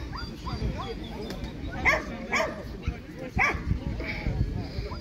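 Several dogs bark in short, sharp bursts at a hunting dog show, a regional exhibition in Kaluga, with people talking steadily over a busy, noisy background.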